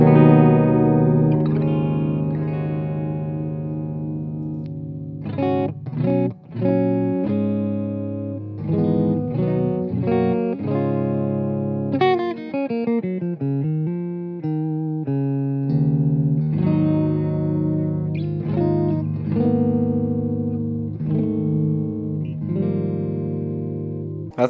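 Gibson all-mahogany electric guitar played through a clean amp tone, a sustained mix of chords and single-note runs with some effect shimmer, close and steady throughout with no voice.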